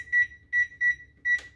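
A kitchen timer beeps four times in quick, evenly spaced bursts while a cheesecake bakes at 450 degrees, the tones bright and clear over a faint low hum.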